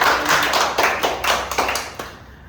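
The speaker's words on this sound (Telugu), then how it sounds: "వెల్కమ్ క్లాప్స్ అందరం" A group claps in steady welcome applause at a birthday celebration for a couple of seconds, dense and lively, then stops abruptly.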